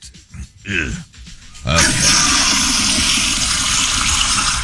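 A household power flusher toilet flushes with a sudden loud pressurized whoosh that rushes on steadily to the end, preceded by a few grunting vocal sounds.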